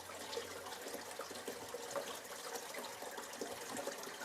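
Water poured out in a steady, continuous splashing stream at a sluice box used for gold clean-up outdoors, fairly faint and without talk.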